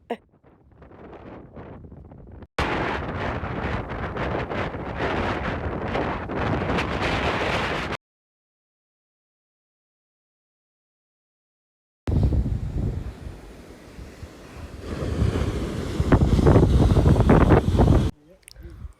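Gusty wind at the Tasmanian seashore buffets the microphone in loud bursts, with roaring rumbles broken by a few seconds of silence, then returning strongly.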